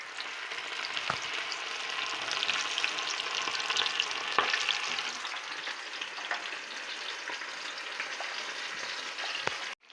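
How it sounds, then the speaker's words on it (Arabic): Chicken pieces coated KFC style fry steadily in hot oil, a continuous close sizzle with occasional sharper pops throughout. "وكتحطوها في الزيت غير شويه"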